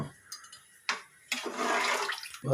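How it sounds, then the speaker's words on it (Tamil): Water poured into a cooking pot for basmati vegetable biryani, a splashing, rushing pour rising after a couple of short splashes and running steadily for about a second before tapering off, close and fairly quiet. "ரெண்டு லிட்டர் தண்ணி ஊற்றிருக்கணுமா"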